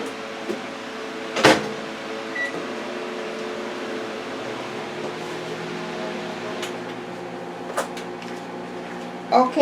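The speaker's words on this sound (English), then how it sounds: "the mixed vegetables are in the microwave cooking" A microwave oven cooking mixed vegetables hums steadily at close range, with a few sharp clicks and clunks scattered through it.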